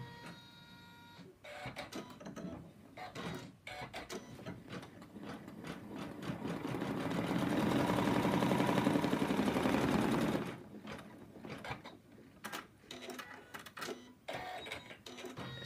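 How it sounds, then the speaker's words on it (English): An embroidery machine stitches an outline on fabric, a fast rhythmic mechanical chatter that swells and steadies in the middle, flanked by quieter taps and handling sounds with no talk. "it's going to draw, sew an outline to show me where the fabric is going to go"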